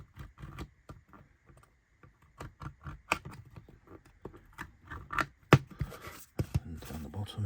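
Sharp cuts and snips through the window openings of a JS Models engine shed kit for a Hornby Dublo 3-rail layout, a close run of irregular clicks and scrapes with a few louder snaps, no talking.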